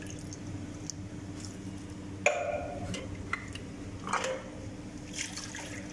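Water from a can of sweet corn draining off in a kitchen while a creamy fruit salad is being made, heard as faint drips and small liquid splashes with a couple of clearer trickles over low background hum.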